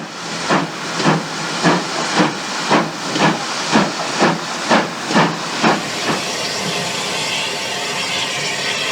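An LSWR M7 steam tank locomotive at the Yeovil depot lets out about a dozen loud, rhythmic steam chuffs, then settles into a steady, continuous hiss of escaping steam.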